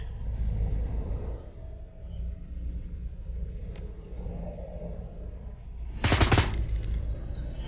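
Gunfire in the video game Shadowrun: Hong Kong: a low rumbling battle bed, then a loud burst of rapid shots near the end, with no talking over it.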